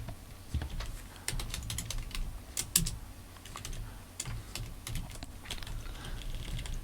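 Rapid, uneven clatter of keys being typed on a clicky computer keyboard, loud and close, with sharper accented strokes scattered through a continuous run.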